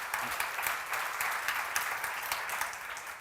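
A congregation claps together during a Korean church seminar sermon, a broad continuous wash of many hands, moderately loud and even, sustained without pause.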